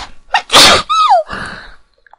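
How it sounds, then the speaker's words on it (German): One loud, close sneeze, a sharp intake and explosive burst, followed by a brief trailing vocal sound and then quiet. "ich muss niesen"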